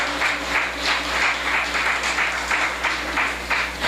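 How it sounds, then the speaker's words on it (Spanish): A church congregation claps in loud, steady applause throughout, a dense wash of many hands with no voices on top. "Si es para el Señor, un fuerte aplauso."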